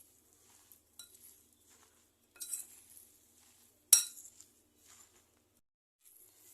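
A spoon clinks and scrapes in a bowl as kofta ingredients are mixed, with sparse, quiet taps and one sharp louder knock amid near silence.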